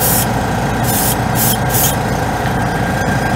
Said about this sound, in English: the ones made for airbrushing really airbrush well